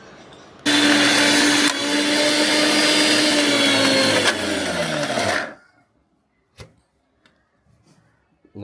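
A mixer grinder whirs loudly for about five seconds while grinding soaked lentils for beef vada, then stops abruptly, followed by a few faint clicks and knocks.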